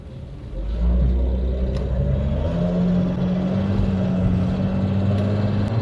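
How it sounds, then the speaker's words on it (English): A Mercedes engine with a tappet noise rumbles steadily at close range, a low constant drone that rises slightly in pitch partway through as it runs on under the throttle. "the engine sound itself is nice"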